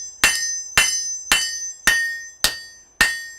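A cross peen hammer rings sharply against metal at a smithy anvil: six loud, evenly spaced blows, roughly one every half second, each leaving a bright metallic ring, with no voices.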